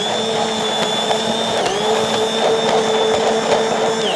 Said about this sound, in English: I like to use a stick blender. I'm just gonna go ahead and blend this here.